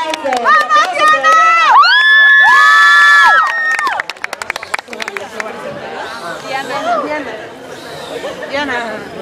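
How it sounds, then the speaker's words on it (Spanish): Studio audience at a singing-contest semifinal cheers and shouts for a contestant, with excited voices and whoops over a brief rush of clapping, then chatter and babble carrying on as the noise settles. "¡Fuerte el aplauso! ¡Vamos, Diana!"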